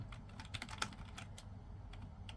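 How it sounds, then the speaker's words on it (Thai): Rapid clattering keystrokes on a computer keyboard, typed during a gaming session with an Asus ROG Ally X handheld, close and fairly loud with irregular bursts of clicks over a low background hum. "ต้องบอกที่มันเด้งดังๆเนี่ย มันเป็นที่ไอคีย์บอร์ดตัวนี้นะครับ"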